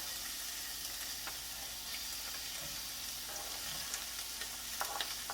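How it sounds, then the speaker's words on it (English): Oil sizzles steadily in a hot pan, a dense crackling hiss with scattered sharper pops, continuous throughout and fairly close. "You'll hear the sizzle."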